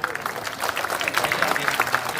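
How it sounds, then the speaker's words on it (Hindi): Crowd applause at an outdoor political rally in Bihar, welcoming guests after a call to clap; steady, moderately loud clapping spread across the whole moment, with crowd noise mixed in. "हम लोग जोरदार एक ताली बजाइए"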